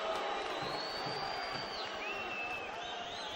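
A boxing crowd at the 1999 Hamed vs Soto fight keeps up a steady roar, with shrill whistles cutting through and scattered shouts rising from the mass of voices.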